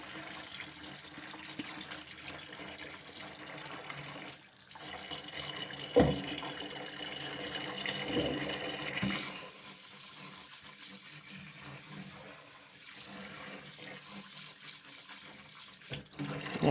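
Water running steadily from a tap to fill a container for cleaning a Sega Saturn console, a continuous hissing splash that shifts in pitch as the level rises, with a few knocks and no talk.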